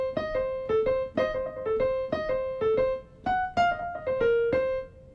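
Piano plays a blues lick in the style of a jazz pianist, a string of clear struck notes and chords in a swinging, repeated rhythmic pattern, close and fairly loud with no talking.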